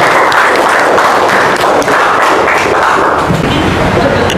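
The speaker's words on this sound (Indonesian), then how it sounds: "Kasih tepuk tangan untuk Mesya dan Nadine." A classroom of students gives a round of applause for two classmates during a science lesson. The clapping is dense, loud and continuous, with many hands close by and no break for the full few seconds.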